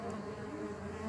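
A swarm of bees buzzing, a steady low drone of many insects, faint and continuous with no talk.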